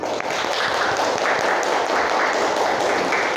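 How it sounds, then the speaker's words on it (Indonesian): A school class at SMK Islam 1 Durenan claps together in a dense, continuous burst of applause that holds at an even level throughout, with no talking over it. "Tepuk tangan untuk kita semua"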